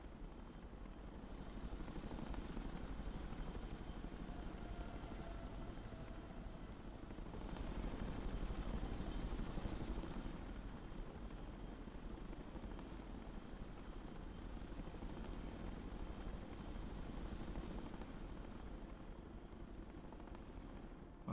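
A Chinook helicopter in the video game Broken Arrow thrums steadily with a dense rotor drone that swells and fades a little over a long, even stretch, alone without voices.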